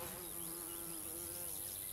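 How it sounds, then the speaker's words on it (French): Bees buzz around garden plants and fruit in wild Corsican scrubland, a steady close droning hum with wavering pitch as they move, continuous throughout with no talk. "il y a nos amis les abeilles"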